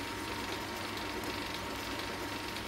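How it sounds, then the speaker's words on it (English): Chamfering tool on a lathe cutting a steel firebar spacer, a steady, dense grinding hiss with no breaks, close and moderately loud throughout. "make some room for the chamfering tool. Just put a little chamfer on the front and the back."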